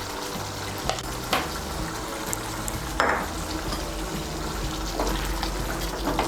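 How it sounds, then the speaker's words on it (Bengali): A spoon stirs a wet egg mixture with garam masala powder and chopped green chillies in a pan, soft close scraping and sloshing with a few sharper clinks against the vessel, no talking. "গরম মশলার গুঁড়োটা ভালো করে মিশিয়ে নেব"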